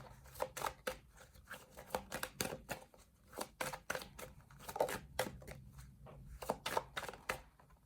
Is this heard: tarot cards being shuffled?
yes